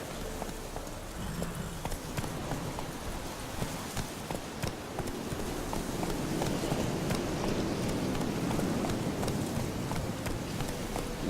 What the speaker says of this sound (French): Il y a un cheval ici.